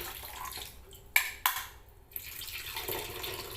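Water splashes and pours briefly, with a couple of sharp bursts followed by a softer trickling wash, close by in a quiet room.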